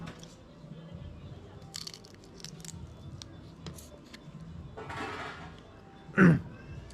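Someone chews spicy cooked crab at a hotel in Digha, with a short, loud crunch near the end rising above a low murmur of background noise and clatter.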